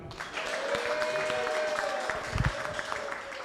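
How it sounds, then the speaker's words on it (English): Applause from an audience at a panel discussion, a steady moderate patter of clapping throughout with a brief louder burst near the middle and faint voices mixed underneath. "a round of applause for the ear doctor."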